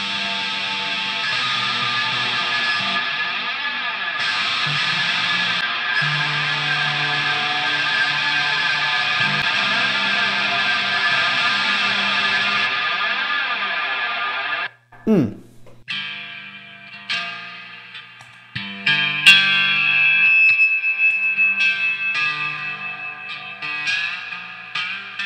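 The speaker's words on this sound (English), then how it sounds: "The reverb pedal on in the pad mode, and I got one of the buttons on." Electric guitar through a reverb pedal in pad mode, soaked in lush, shimmering reverb, a long sustained pad-like wash that cuts off abruptly, followed by sparser plucked notes trailing into echo.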